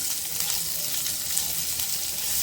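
Onion slices fry over a medium flame in spiced oil, a steady bright sizzle with crackly spatter, close and continuous with no talking.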